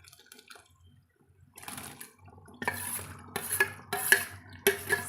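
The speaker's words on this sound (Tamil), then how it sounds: "இது நல்லா கொதித்து வரட்டுங்க ஒரு 2-3-4 நிமிஷத்துக்கு" An okra curry in a pot: after near silence, a ladle stirs and clinks against the pot in several bursts of wet sloshing and scraping, fairly close, without speech.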